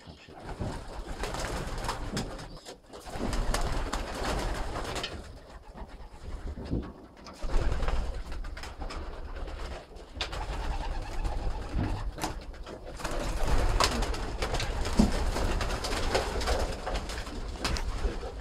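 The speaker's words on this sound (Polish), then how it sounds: "Rzuć okiem jeszcze raz na półkę, jak siedzą na półeczkach gołębie." Pigeons coo throughout in a loft among steady rustling and background noise, a low murmur of many birds close by with occasional flutters.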